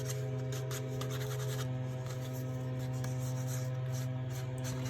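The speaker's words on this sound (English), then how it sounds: "I'm just gonna give this a little rub here. Just give it a little dimension." A paper card is rubbed by hand to give it dimension, a soft steady scratchy rubbing over a constant low electrical hum.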